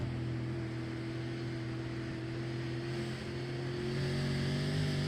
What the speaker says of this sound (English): Definitely hear him working the throttle